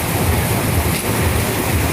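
Heavy rain pours down at night on a street in Thailand, a dense, continuous roar, loud and close with no break or talk.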